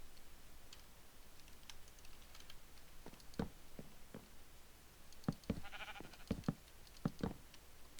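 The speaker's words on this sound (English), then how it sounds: "Sheep, you're not allowed in this house." Sheep bleat inside a house in a fantasy video game, short faint calls scattered among clicky taps and knocks, growing busier toward the end over a quiet hiss.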